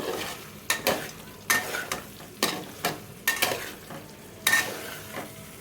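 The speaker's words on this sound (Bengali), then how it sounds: "আমি এখানে চিংড়ি মাছগুলো দিয়ে দিচ্ছি তারপর আরেকটু কষিয়ে নেব" Prawns and taro stems stirred and sautéed in a pan, with a spatula scraping in repeated irregular strokes over a faint background sizzle, fairly close and moderately loud, with no talk.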